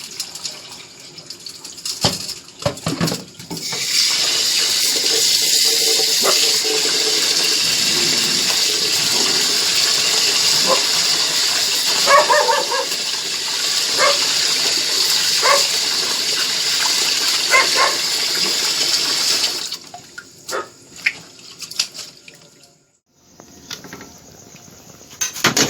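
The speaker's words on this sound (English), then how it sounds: "You wash the rice man." Running tap water gushes steadily as rice is washed for a Jamaican gungo rice and peas dish, a continuous loud splash lasting most of the stretch before cutting off, with brief clatter near the end.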